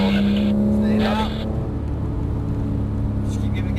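Porsche 911 GT3 engine pulling hard on a race track, a loud steady drone with a strong held tone that shifts as the car accelerates, while an instructor talks over it throughout.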